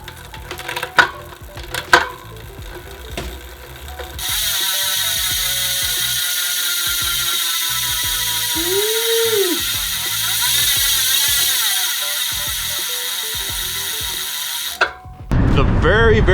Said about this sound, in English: here is a free hub sound test on these Winspace or Loon Hyper